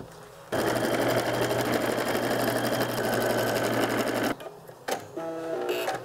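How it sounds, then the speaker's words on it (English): A sewing machine stitching fabric for a drawstring bag runs in a fast, steady mechanical chatter for about four seconds, then stops and starts again briefly. "You're now going to, on your sewing machine, stitch 1/4 of an inch"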